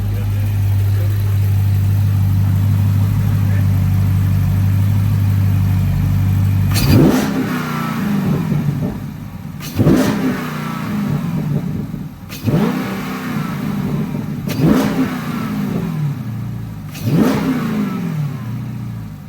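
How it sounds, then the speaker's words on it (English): A Dodge Charger Daytona 392 V8 engine with a large aftermarket intake idles with a steady rumble, then revs sharply five times at regular intervals, each rev rising and falling back, close and loud. "We're gonna do a couple revs, see if it sounds any different."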